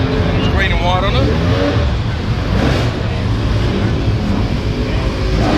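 A car engine with a deep, throaty rumble at the Adelaide Motorsport Festival, loud and sustained throughout, with voices talking over it.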